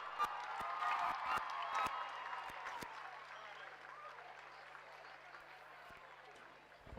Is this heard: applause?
yes